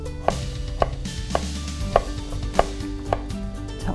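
A knife slices steadily through a cucumber on a cutting board, about six sharp, evenly spaced cuts, close and fairly quiet.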